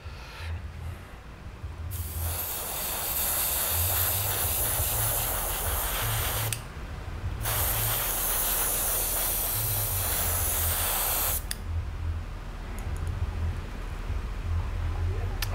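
A wet coat of colour shift paint is sprayed in long steady bursts, each a loud close broad hiss lasting several seconds with short pauses between, over a low motor hum.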